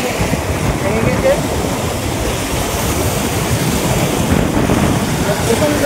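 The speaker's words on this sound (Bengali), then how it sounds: "বন্ধুরা দেখুন প্রচণ্ড করে ঢেউ হচ্ছে" Strong waves churn on the Raimangal river in the Sundarbans, a loud continuous roar of rushing water mixed with heavy wind buffeting close to the microphone.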